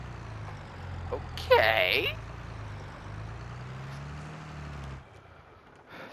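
Tractor engine from a farming video game, rated at 190 horsepower, idles with a steady low drone that swells into a brief rev before settling, then cuts off near the end, while someone talks over it.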